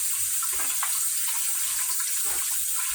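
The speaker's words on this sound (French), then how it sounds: "Je vais laver notre salade avec l'eau froide." Lettuce is rinsed under cold running tap water, a constant close rush of water with brief dips as the leaves are moved about; no talking.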